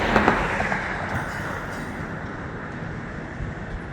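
CSX freight cars roll slowly past, a steady close rumble of wheels on track with faint squeals and clanks early on, continuous throughout.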